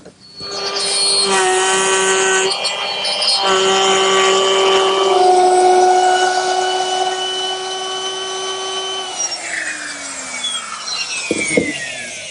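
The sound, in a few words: power tool with 1/2 inch bit cutting grooves in wood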